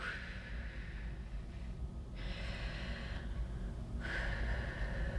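Slow, deliberate breaths taken as a breathing exercise to calm anxiety: a steady airy hiss throughout with a couple of louder, sharper inhales or exhales, close to the mic and with no talking.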